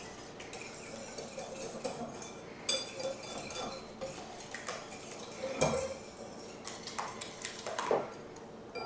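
Utensil clinking and scraping in a bowl while eggnog bread-pudding ingredients with salt, nutmeg and vanilla are mixed, a steady close run of small metallic taps and stirs with louder clinks now and then, no talk.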